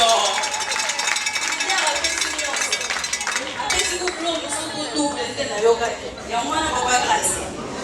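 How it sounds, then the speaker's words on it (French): Wedding guests at a religious ceremony and dance party applaud a guest of honour. Brisk, closely packed clapping fills the hall, mixed with music and the clink of dishes, and the overall level swells and dips. "Sous vos applaudissements, je vous prie d'applaudir encore très fort pour Papa Grâce"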